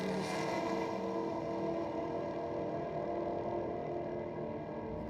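A Ford Falcon XY ute accelerates down a drag strip, its engine droning loud and steady before easing off slightly near the end. No one speaks over it.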